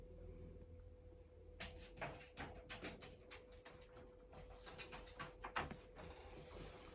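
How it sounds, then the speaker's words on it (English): Pigeons cooing on a roof, soft low coos in a faint steady background, with a run of muffled thumps and rustles midway. "Pigeons on roof."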